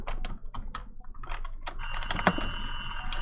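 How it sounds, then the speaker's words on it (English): Old telephone bell ringing in the background, a bright rattling trill that starts partway through after a run of keyboard typing clicks, moderately loud. "that old phone ringing in the background"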